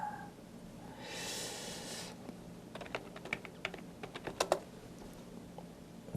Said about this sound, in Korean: 그냥 저는 직접 입력으로 타이핑하겠습니다.